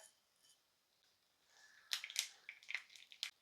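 Mustard seeds spluttering in hot oil in a pan, faint at first, then a burst of sharp, close pops and crackles in the second half.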